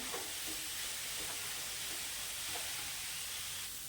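Mixed vegetables sauté with a little salt in a pan over very low heat, giving a soft, steady, close sizzle and hiss with faint stirring scrapes and no voices.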